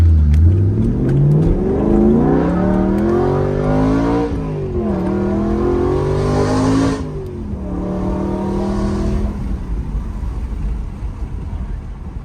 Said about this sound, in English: Got the valves open now, and you'll notice the exhaust noise drowns out intake noise.